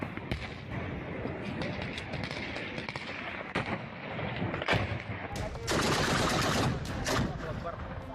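Gunfire and shelling hit a Pakistani army post during an Afghan Taliban attack: dense, continuous crackling bursts and heavy thuds fill the whole stretch and grow louder near the end, with a voice speaking over them.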